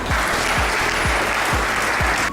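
Audience applause at a ceremony for the 26th Africa Cup of Nations in handball: loud, dense, sustained clapping from a crowd, with a few rhythmic low thumps underneath and no speech.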